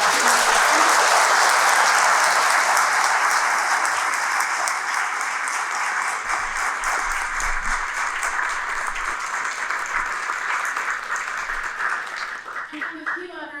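An audience at a Chicago Day of Remembrance gathering gives a long, steady round of applause, dense and sustained for over twelve seconds before tapering off, with a brief voice near the end.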